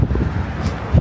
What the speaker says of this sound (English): Things just blowing about in the wind and whatnot.